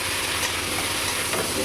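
Boiled young jackfruit sizzles as it is sautéed with salt and spices in a pan for a Bengali prawn and jackfruit dish. A steady, close frying hiss carries on throughout with no talking.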